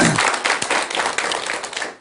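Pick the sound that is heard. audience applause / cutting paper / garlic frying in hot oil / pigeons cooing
audience applause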